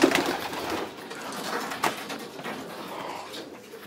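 A pigeon at a Belgian racing-pigeon loft coos up close in soft, throaty bursts, with light rustling around it and no talking.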